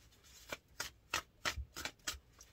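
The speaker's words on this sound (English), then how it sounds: "I shuffle and nothing comes out" Tarot cards are shuffled by hand close to the mic, about seven crisp riffling bursts in an uneven rhythm with faint rustling between them and no speech.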